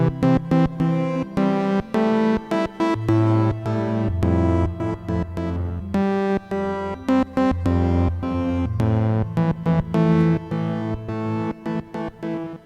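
An OP-1 synthesizer sequence run through the Sonicware Texture Lab's granular effects mode, dense layered tones with choppy stuttering grains and shifting low notes forming a busy rhythmic texture, played alone.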